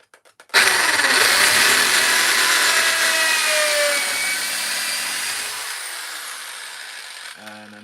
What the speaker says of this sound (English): We're going to drill a hole through here.